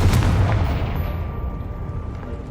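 The Confringo explosive spell goes off in Hogwarts Legacy as a single deep boom that hits hard at the start and rumbles away over a couple of seconds.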